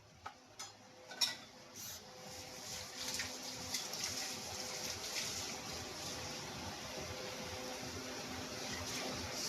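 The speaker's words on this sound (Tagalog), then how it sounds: "lalagyan na po natin ng tubig" Faint water splashing and trickling into a pot for fish tinola, with a few sharp clinks near the start, then a steady pour continuing, close by and quiet.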